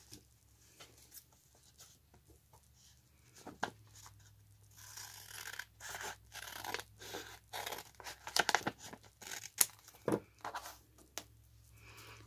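Scissors snipping paper while assembling a vintage ballerina-themed journal: a faint start, then a run of quick, close crisp cuts and rustles, irregular in rhythm, with no talking.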